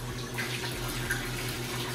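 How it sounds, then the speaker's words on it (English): Hydrogen peroxide poured from a container into a water-filled cold plunge tub gives a steady, close splashing stream that runs without a break under a low background hum. "I kind of pour like a cup in the beginning."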